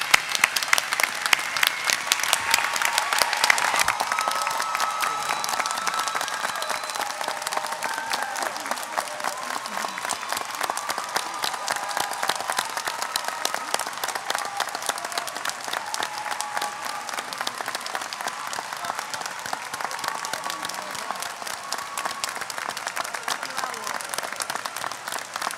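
Sustained applause from a large audience at a 2022 law school commencement ceremony, dense steady clapping filling the hall for the whole stretch, with faint voices mixed in.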